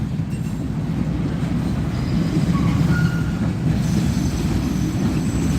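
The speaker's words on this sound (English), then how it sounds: "Train spotting." Long freight train passing near a cyclist on a New Orleans street, a steady loud low rumble of railcars with brief thin wheel squeals drifting above it, no one speaking.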